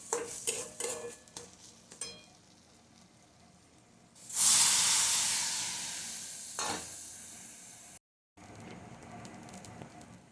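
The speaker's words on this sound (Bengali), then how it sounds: "অল্প অল্প দুধ দিয়ে সুজিটাকে ভালোভাবে মিশিয়ে নিতে হবে।" Semolina is stirred with milk for gulab jamun: light spoon taps and scrapes in a pan, then a loud hissing sizzle that swells and fades over a few seconds before a brief cut to quieter stirring.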